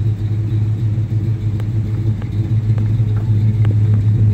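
A 1968 Plymouth Roadrunner clone's 440 big-block V8 idles with a deep, steady, loud rumble and an even low throb throughout, with faint ticks over the top and no voices.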